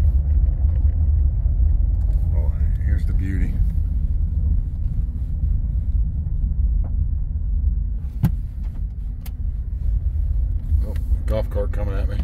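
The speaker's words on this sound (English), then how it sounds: "Golf cart coming at me" A golf cart carrying kids rolls toward the listener along a rural road full of potholes, its steady low motor rumble mixed with wind buffeting, with a few sharp bumps and rattles near the end.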